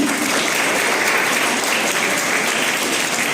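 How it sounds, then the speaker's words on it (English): Steady, dense applause from a school audience honouring the first rank holder, continuous and even throughout with no talk over it. "Please give a big applause for her in her absence"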